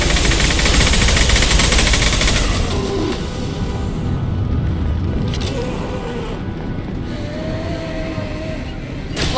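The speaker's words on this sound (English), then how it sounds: "Firing a high impact shot" Gunfire in the sci-fi shooter Mass Effect 2, with heavy, sustained weapon fire that is loudest at the start and then continues as a rumbling battle din under occasional voices.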